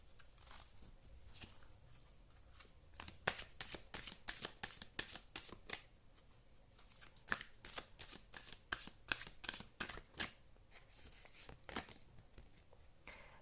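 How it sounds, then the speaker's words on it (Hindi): Tarot cards being shuffled by hand in a series of quick, crisp riffling bursts with short pauses between, close and fairly quiet with no talking. "मैं कुछ कार्ड्स और निकालना चाहती हूँ।"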